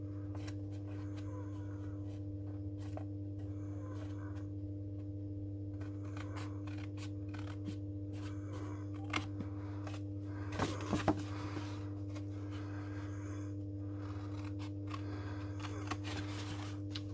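Scissors cut up paper card for a gatefold envelope card, a scattered series of soft, brief snips and rustles over a constant low electrical hum, with no talk.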